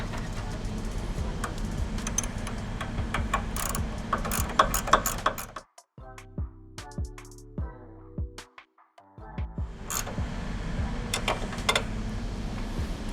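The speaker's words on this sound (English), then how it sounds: "Place the sway bar end link back into the sway bar. You can go ahead and bolt this down." On a Chevrolet Suburban front suspension, a ratchet bolts down a sway bar end link, with rapid clicking pawl ratcheting and mechanical whirring, a pause of slower individual clicks in the middle, then more continuous ratcheting.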